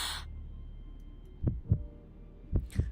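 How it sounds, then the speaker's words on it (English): A dramatic heartbeat sound effect of two paired thumps, a lub-dub followed by a second lub-dub about a second later, deep and prominent over a low steady drone. "Her heartbeat quickens in her chest."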